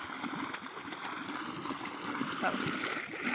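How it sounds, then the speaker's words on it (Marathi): Irrigation water gushes steadily from a running pump motor onto a red onion field, a continuous rushing, gurgling flow heard close and loud throughout. "चालू मोटर भरपूर जोरात पाणी चालू आहे"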